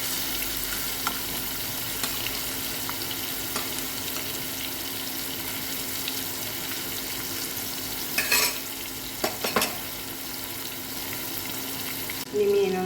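Thick pieces of fish fry steadily in oil in a pan for a fish fry pickle, with a continuous close sizzle and a few brief scraping clatters as the pieces are turned.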